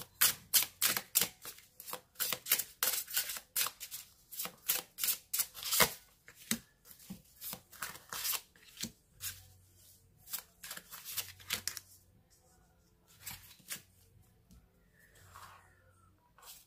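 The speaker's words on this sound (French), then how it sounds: "je mélange un petit peu les cartes" Playing cards shuffled during a tarot-style reading, a long run of dense crisp riffling and flicking bursts, close and fairly loud, thinning into sparser snaps toward the end with no talking.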